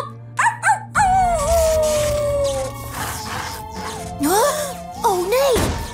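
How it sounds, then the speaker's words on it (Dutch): Rubble, the cartoon bulldog from PAW Patrol, gives drawn-out wavering howls, first a couple of short yelps and then long rising and falling cries, loud and near over a music bed. "Blijf janken, Rubble."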